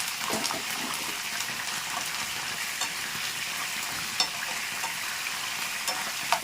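Mint leaves and coriander frying in a pan for green chicken curry, a steady dense sizzle close by with occasional light stirring clicks and no talk.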